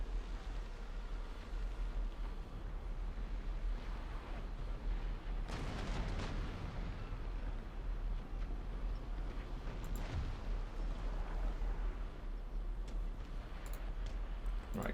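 Cannon fire rolls through a naval battle in Empire Total War, with heavy booms at intervals over a continuous low roar of distant battle noise.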